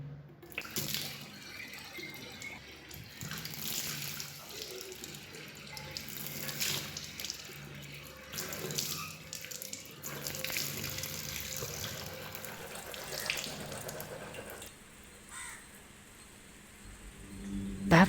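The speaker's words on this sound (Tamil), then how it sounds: "டேப் சரியாக மூடலையோ?" Water pours steadily from a tap left open into a sink, a continuous splashing rush with occasional drips and a louder gush near the end.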